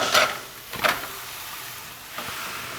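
Italian sausage dropped into an olive oil skillet of softened onions, soft sizzling with a few bursts of scraping and stirring against the pan.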